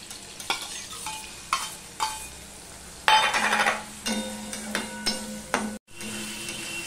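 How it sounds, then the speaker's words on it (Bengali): Prawns coated in salt and turmeric frying lightly in oil, a bright crackling sizzle with repeated stirring scrapes and occasional utensil clinks against the pan, close up, swelling louder midway before a brief break. "চিংড়ি মাছ নুন হলুদ মাখিয়ে নিয়েছিলাম, সেগুলো আমি এবার ভেজে নেব"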